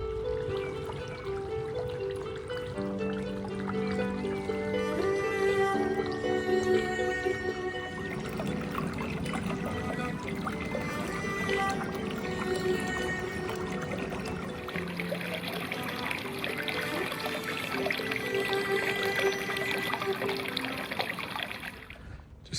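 Shallow stream water rushing and trickling over a rocky riffle in a forest preserve, a steady, continuous babble heard up close with no talking.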